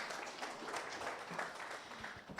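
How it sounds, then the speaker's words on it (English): A seminar audience at an ICT event gives a round of applause, steady dense clapping that carries on across the whole moment at a fairly soft level. "Another round of applause for Huawei."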